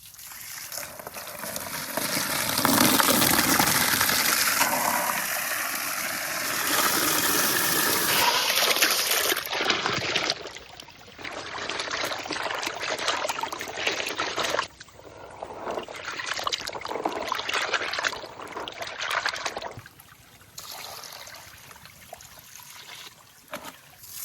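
Crabs and water hyacinth are scrubbed and rinsed by hand in a tub of water, giving a continuous loud sloshing, splashing and trickling with brief pauses and bursts of running water.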